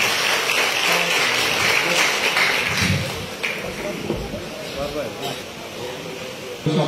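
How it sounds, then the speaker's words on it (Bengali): Audience at a political gathering in Manikganj applauding to welcome the chief guest and other guests, loud dense clapping that tapers after about three seconds into scattered claps and murmuring. "তাদেরকে আমরা একটু করতালি দিয়ে অভিনন্দন জানাই।"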